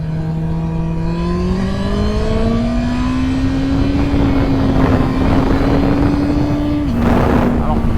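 Suzuki Hayabusa motorcycle engine revving up steadily from idle, a loud, rising tone held high before dropping back, close and continuous.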